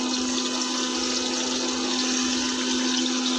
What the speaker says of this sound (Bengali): এবার আমি তেলে জল দিয়ে দেবো।